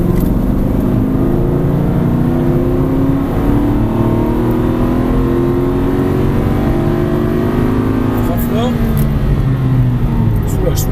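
An Aston Martin V8 Vantage accelerating hard at full throttle on a race track, the engine note rising steadily through the gears, loud and close, with an instructor talking over it.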